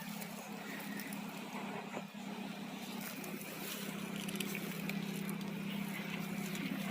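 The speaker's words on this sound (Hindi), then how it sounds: "यही हूँ आम धान कटा मेसीन" Rice harvesting machine running in a paddy field, a steady low engine drone with a constant hum and rough mechanical rattle, moderately distant and fairly quiet, slightly louder toward the end.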